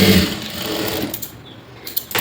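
A sewing machine stitching blouse fabric runs loud and steady, a close continuous mechanical whir that thins and fades toward the end with a few small knocks.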